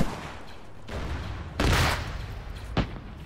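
Gunfire in the Arma 3 Star Wars mod: a loud burst of shots mid-clip and a sharp single crack near the end, over steady low battlefield rumble.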